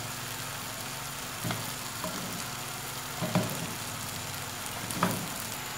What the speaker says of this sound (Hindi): अब इस गोश्त को भी मसाले के साथ 2 मिनट तक भूनेंगे अच्छी तरह से।